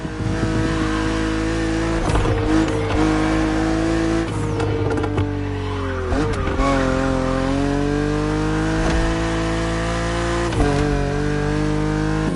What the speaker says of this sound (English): But you are driving a coupe cabriolet